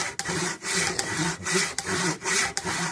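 A large hand saw cuts through wood in steady, even back-and-forth strokes, each a loud rasping pass with brief pauses at the turns, close by and without talk.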